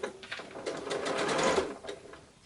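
A sewing machine runs steadily, stitching the curved seams of a quilt block. It makes a soft, close, whirring hum that swells in the middle and then eases off, with no talk.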